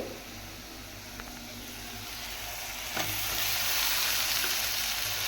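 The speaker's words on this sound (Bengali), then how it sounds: "কষিয়ে দেবো মশলাটা।" Spice paste and potatoes fry in oil for a pabda fish curry, giving a steady, close sizzle with light stirring clicks that grows slightly louder toward the end.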